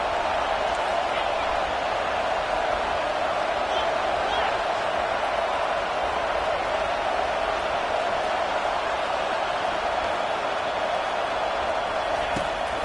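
Stadium crowd at an LSU versus Missouri college football game during a big third down, a loud sustained wash of cheering and roar that holds steady throughout without breaks.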